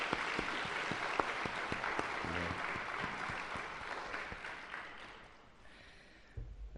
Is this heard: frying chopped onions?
no